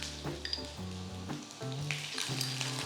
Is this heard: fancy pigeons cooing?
no